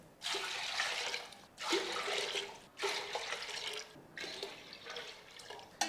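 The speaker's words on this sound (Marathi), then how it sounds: "त्यामध्ये आपल्याला पाच भांडी पाणी घ्यायचं" Water poured from a vessel into a large pot set up for heating, in four separate bursts of steady splashing and gurgling, each pause marking a refill, close and fairly loud with no voices.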